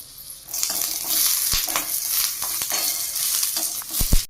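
Green chillies and garlic fry in a little oil in a pan, a steady broadband sizzle running throughout with a few sharp stirring clicks and pops, the loudest near the end; no talk.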